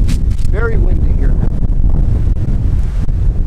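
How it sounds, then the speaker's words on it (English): Strong outdoor wind buffets the microphone with a constant, loud low rumble, while a faint voice is briefly audible beneath the roar. "very windy here"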